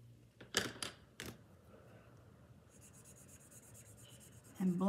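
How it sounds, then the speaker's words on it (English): Colored pencils being worked on paper during card making, with a few sharp scratchy strokes early on, then quiet, faint rubbing and a thump at the end. "And blend those greens together."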